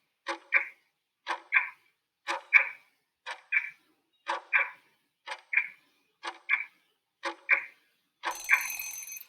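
A quiz countdown timer ticks about once a second with eight evenly spaced double clicks, then ends with a brief, brighter alarm-like buzz, clear and alone with no voices.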